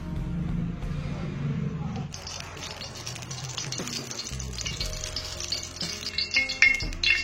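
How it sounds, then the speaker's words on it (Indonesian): Fifteen millilitres of cooking oil in a pan, heating for a stir-fry of Acehnese clams, gives a steady sizzle and hiss that grows brighter partway through, with faint clinks of utensils near the end. "Panaskan minyak 15 ml"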